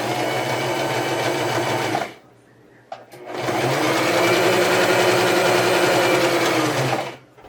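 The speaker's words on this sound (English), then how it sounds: "So let me go ahead and sew this first little piece." A sewing machine runs loud and close, stitching a small seam in fabric for a scrappy Christmas potholder, two steady whirring runs broken by a brief pause.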